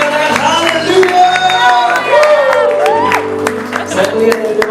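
A church congregation at a Sunday service claps together, a steady mass of hand claps under the pastor's voice and crowd singing or shouting.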